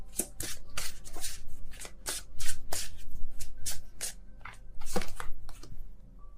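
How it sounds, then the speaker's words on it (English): Tarot cards shuffled by hand, a rapid series of crisp riffling bursts in an uneven rhythm, close and steady with no talking. "I don't look at the deck while I shuffle."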